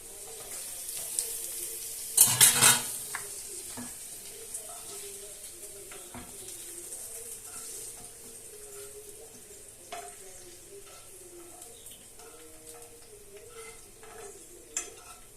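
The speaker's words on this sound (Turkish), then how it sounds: "Böyle kızartacağım onu." Food sizzles softly in a pan, a quiet steady crackle, with a sharp metallic clatter early on and occasional stirring scrapes.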